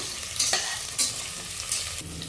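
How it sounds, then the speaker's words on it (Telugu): Onion and green chillies sizzle in hot oil in a pan, with a steady bright hiss, a few louder spatters and scraping stirs breaking through, close and alone with no talk. "ఆనియన్, పచ్చిమిర్చి 2 ఒకేసారి వేసుకుంటున్నాను. ఇది కొంచెం ఫ్రై చేసుకుందాము"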